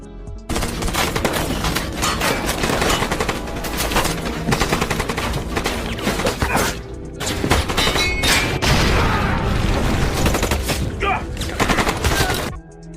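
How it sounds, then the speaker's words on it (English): Intense gunfire from a fierce firefight in a toy store, with rapid bursts of automatic shots and heavy reports echoing almost continuously, briefly pausing between volleys. "Vance engages in a fierce firefight with them"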